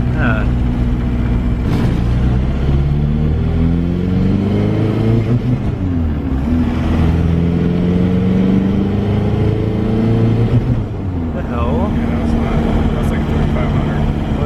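A Toyota truck with a swapped-in TDI diesel engine revs repeatedly, the engine pitch rising and falling in sweeping waves over a constant rumble, with people talking over it.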